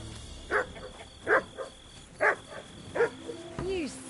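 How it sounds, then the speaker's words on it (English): A dog in Kingdom Come: Deliverance barks four times at evenly spaced intervals, moderately close, followed by a brief tonal game sound. "You silly doggy."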